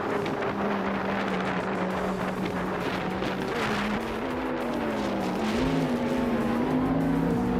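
Race cars speeding in a racing video game, with steady engine drones rising and falling in pitch as several cars run close together, loud and continuous throughout without any talking.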